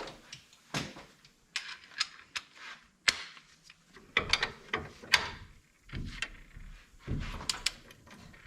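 A ratchet wrench clicks in short bursts while tightening a lift bolt on a Nissan Frontier, each stroke a close, crisp run of clicks separated by brief pauses.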